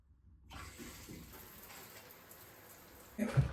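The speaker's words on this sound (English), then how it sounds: "I'm gonna start the shower" Shower water starts running in a home bathroom during an early-morning routine, a steady broadband hiss of spray that begins abruptly and continues evenly, close by, ending with a brief louder clatter.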